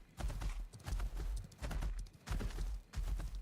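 Horse hooves clip-clopping in the video game Ashes of Creation, in steady paired bursts of hoofbeats with a low rumble beneath, close and fairly loud, no voices.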